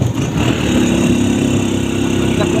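A motorcycle engine, hauling a load of bottles for delivery, runs steadily and close by at a constant low drone for the whole stretch, with no talk over it.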